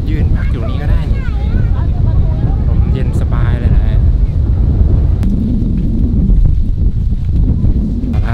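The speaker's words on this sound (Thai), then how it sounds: "ทางเดินตรงนี้จะเป็นเหมือนช่องลมครับ ลมมันจะแรงเหมือนลมเย็นพัดผ่าน" A strong, cool wind rushes through a narrow rock passage at Khao Ngu Stone Park in Ratchaburi. Loud, continuous gusts buffet the microphone, with faint voices partly buried beneath.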